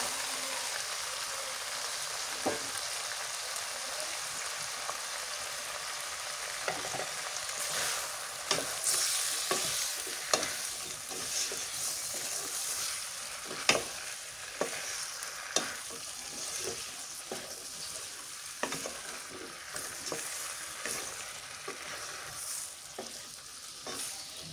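Spice masala fries in a pan under a constant crackling sizzle, with repeated sharp scrapes and knocks from stirring throughout.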